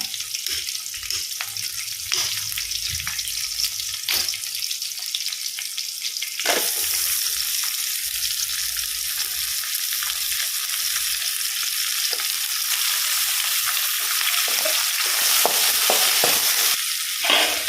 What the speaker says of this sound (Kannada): ಈ ಈರುಳ್ಳಿ ಫ್ರೈ ಆಗಬೇಕು ಹಾಗೆಯೇ ಶುಂಠಿ ಬೆಳ್ಳುಳ್ಳಿ ಫ್ರೈ ಆಗಬೇಕು